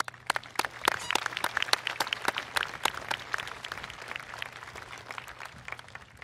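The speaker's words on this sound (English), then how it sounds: "Please give them an applause." Graduation audience at a high school ceremony claps steadily, a dense patter of many hands with sharp individual claps standing out, moderately near and continuing without voices.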